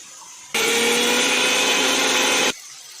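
A mixer grinder whirs loudly for about two seconds, starting and stopping abruptly, with a gritty rattle from grinding coconut dry, without water, inside.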